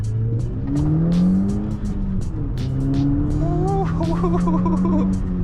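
An Audi A4 B8.5 on ultra high-performance tires accelerates hard from inside the cabin, engine pitch climbing through successive gear pulls, loud and close, with a voice briefly over it.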